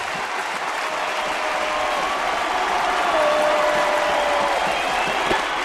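A baseball stadium crowd cheers and applauds loudly and continuously as the Seattle Mariners face Toronto in the ninth inning, a dense sustained roar of clapping and shouting.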